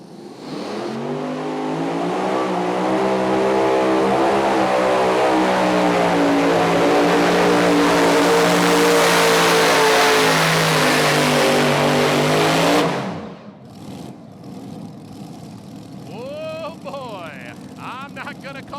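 A super modified pulling tractor at a pro pulling league event roars at full throttle for about thirteen seconds, a loud, dense multi-engine howl with rising pitch, then cuts off sharply, leaving quieter crowd noise and a commentator's voice.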